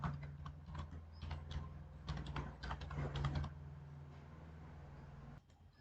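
Computer keyboard typing while writing in a code editor, bursts of quick close key clicks over a steady low hum, then a pause with fainter taps before the hum drops, no speech.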